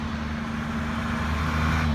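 Road traffic with lorries and cars rolls past nearby in a steady, continuous engine drone and tyre rumble, with no voices over it.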